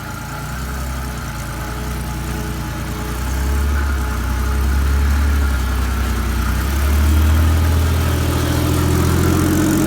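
A Honda 4Trax ATV engine runs steadily close by, a low rumbling idle that swells slightly in the second half, with no voices.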